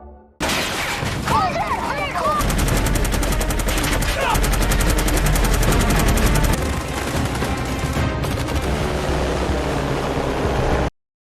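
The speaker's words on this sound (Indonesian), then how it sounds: "Pasukan Giorgio menembaki dari bawah" Dense, loud rapid gunfire rattles nonstop from below in a combat scene from a warship TV series, with a few brief shouting voices cutting through the din.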